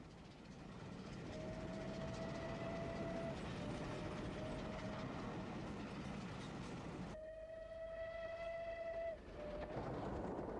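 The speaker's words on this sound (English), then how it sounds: "The up and down Atlantic Coast Expresses are about to pass." Steam-era express on the Southern line climbing westbound up Honiton Bank on a 1 in 90 to 1 in 100 gradient, distant rumble with a long whistle blast, then a second sustained whistle as the trains pass.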